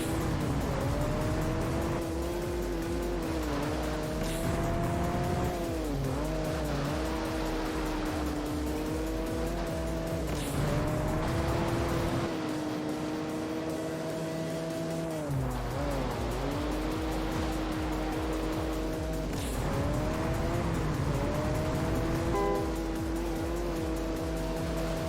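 Toyota Corolla racing in the video game Juiced, its engine droning steadily and rising and falling through gear changes, with occasional tire squeal throughout.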